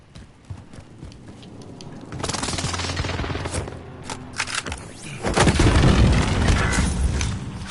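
A precision airstrike in Call of Duty Warzone, with heavy explosions and gunfire. Two big rumbling waves of blasts roll in, the second louder and longer, mixed with scattered popping shots.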